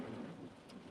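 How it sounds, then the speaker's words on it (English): Rain falls outside as a steady, faint hiss in the background, a soft, even wash of sound with no talk over it. "So y'all might hear the rain in the background."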